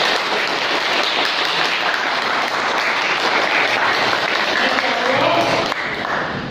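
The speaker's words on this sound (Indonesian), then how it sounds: "Tepuk tangan buat Mas Ali Akbar" An audience at an Islamic religious gathering claps for Mas Ali Akbar, loud sustained applause from a crowd that stays dense throughout and eases slightly near the end.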